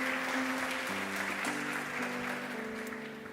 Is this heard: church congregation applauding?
yes